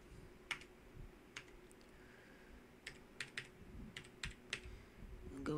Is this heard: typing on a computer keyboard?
yes